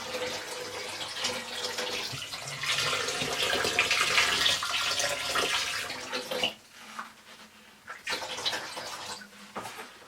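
Water pours steadily into a container being filled to dilute bleach for bleaching jeans, a continuous rushing splash that thins out and stutters near the end with a few brief renewed gushes.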